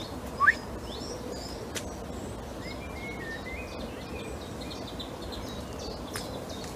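A chiffchaff calls faintly at a distance in a cemetery, giving short scattered notes over a steady background hiss, with one sharper chirp near the start.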